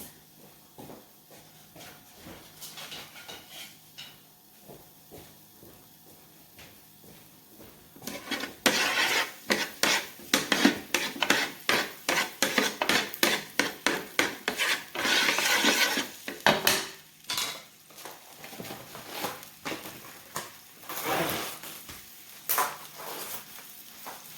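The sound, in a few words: red onion cooking down in a pan for eggplant stir fry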